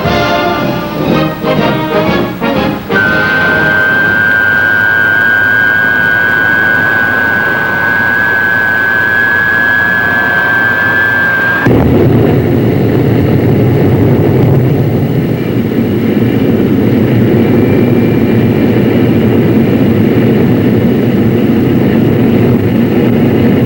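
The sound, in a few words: McDonnell Banshee jet aircraft engine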